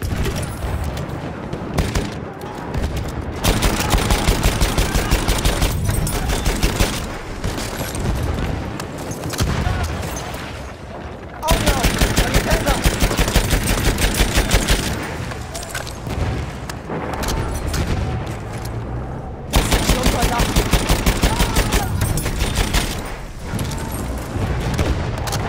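Chauchat machine gun fire in Battlefield 1, sustained loud bursts of automatic shots with booming impacts and battlefield din, pausing briefly between long strings of fire.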